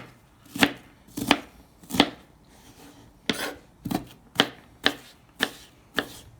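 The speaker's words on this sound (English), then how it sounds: "We've got our onion. We'll cut that up." A knife chops an onion on a cutting board, about eleven crisp, evenly spaced cuts landing close to the microphone with short pauses between them and no talking.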